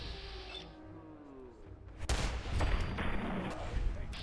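Exploding-bullet gunfire in Fallout 4, with booming blasts and rumbling detonations starting midway and continuing, following a quieter stretch of game ambience.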